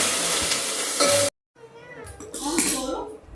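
Khichdi being tempered in a pan, a steady sizzle and stirring clatter that cuts off abruptly, then returns more quietly under a voice talking nearby.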